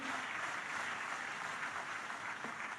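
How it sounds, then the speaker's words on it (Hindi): An audience applauds in a hall at a Jain gathering honouring Amit Shah, a continuous, even patter of many hands heard from a distance at low volume. "तब आइए इस भवन को गुंजायमान कर दे हमारी तालियों की बौछार से"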